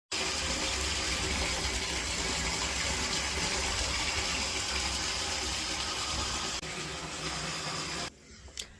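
A bathtub fills from the tap, a steady broadband rush of running water close by that carries on unbroken for about eight seconds before it drops away near the end.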